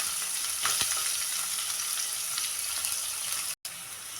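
Chopped green chilli, ginger and onion sizzle steadily in a hot pan as jackfruit-seed upma is cooked, a dense close frying hiss with a few stirring scrapes and one brief cutoff near the end.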